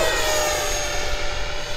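A radio-controlled rocket-powered jet plane flies past with a steady, loud engine roar and a sustained high whine, continuous throughout with no voices.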